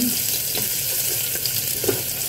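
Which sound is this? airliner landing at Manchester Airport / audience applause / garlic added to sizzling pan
garlic added to sizzling pan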